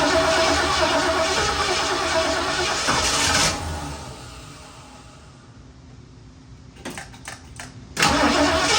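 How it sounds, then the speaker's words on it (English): A 1964 Ford Fairlane Thunderbolt clone cranks and fires, sending a loud, rough engine roar up close for several seconds. It then drops to a quieter idle broken by a few sharp knocks before surging loud again. "we got fire, we got gas. Let's see if it starts."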